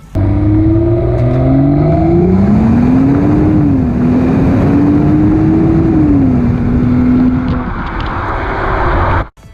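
BMW X3 35i engine revving: a loud, continuous run with the engine pitch climbing, dipping and rising again through several gear changes, then cutting off abruptly at the end.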